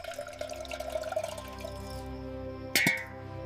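Cartoon sound effect of water being poured into milk, a trickling, dripping liquid sound that gives way to a sharp splashy burst near the end, with a faint musical tone underneath.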